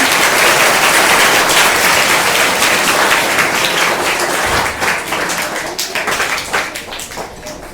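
Students in a school classroom quiz show clap together in a loud, dense burst of applause that holds steady and then tapers off near the end.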